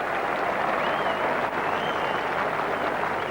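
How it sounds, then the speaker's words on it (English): Steady crowd applause ripples around the ground at a 1986 England v India cricket Test match at Headingley, a broad continuous wash from a distant stadium crowd with faint whistles cutting through. "Applause and good wishes for Mike Gadding as Chris Smith makes his way back to the dressing room"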